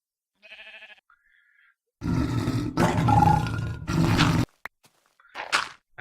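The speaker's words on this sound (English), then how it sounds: "if you listen carefully, you hear a big cat. Like a really big cat." A big cat in the Minecraft video game lets out a loud run of deep roars in close succession, followed by a few shorter growling bursts, with a faint higher cry just before.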